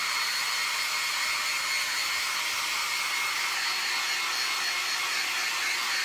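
A hair dryer blows steadily on a craft coating, a loud, constant, close airy whoosh with a high whine and no break for the whole stretch.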